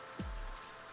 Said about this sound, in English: As if this excruciating day couldn't get any worse, it was now pouring rain.